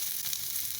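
Egg masala poured into a pan with a cucumber snack sizzles and hisses steadily, a bright, close frying crackle for under a second.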